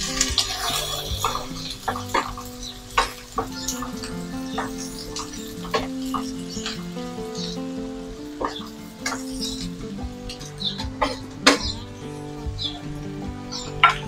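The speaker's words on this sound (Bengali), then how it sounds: "আমার মাস্টার্ড অয়েল একেবারে হিট হয়ে গিয়েছে, এখন আমি পেঁয়াজটা দিয়ে দিচ্ছি" Chopped onions sizzle steadily in hot mustard oil in a pan, a soft continuous crackle punctuated by clinks and taps of a utensil, with no voices.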